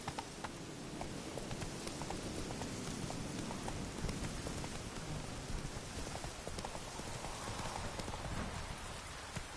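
Hooves clip-clop steadily as the horse Roach gallops in the video game The Witcher 3, a continuous rapid patter under a noisy wash resembling rain.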